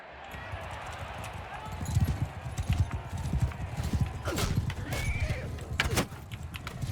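A horse in Mount & Blade II: Bannerlord gallops with rapid clip-clopping hooves and lets out loud neighs over a busy background, close and prominent across the whole stretch.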